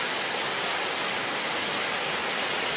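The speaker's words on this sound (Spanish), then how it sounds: "escalones donde el agua cae y forma unas cascadas bárbaras y unos pozos profundísimos" A hidden waterfall pours over rock steps into deep pools in a gorge, giving a dense, constant roar of rushing water, close and loud with no other sounds.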